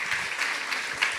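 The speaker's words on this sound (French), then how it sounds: "Marc Lecouvet de Créteil, devant, on peut l'applaudir." An audience at a chemistry olympiad ceremony applauds an honoured guest, a dense patter of clapping from a crowd heard at moderate distance for a brief moment, with no voice over it.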